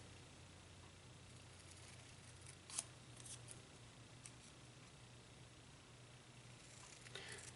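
Scissors snipping paper page flags for handmade Father's Day cards, faint close cuts with a couple of sharper snips against steady low background hum.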